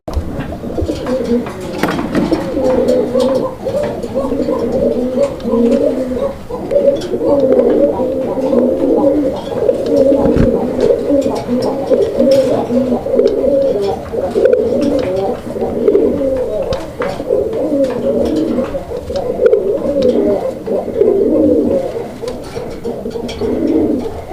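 Raj Golla pigeons coo continuously at close range, overlapping soft rolling calls from several birds filling the whole stretch, with faint background noise and occasional low voices.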